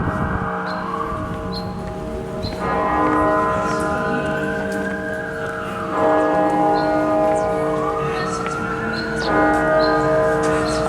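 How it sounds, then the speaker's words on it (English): Church bells at York Minster ring in a sustained, resonant tolling while a wailing siren rises and falls twice behind them, both carrying through an outdoor city setting without speech. "That's a nice sounding bell"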